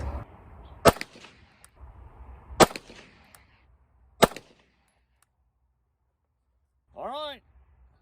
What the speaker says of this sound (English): So the next group we're going to shoot is this 115 grain powder coated semi-wad cutter.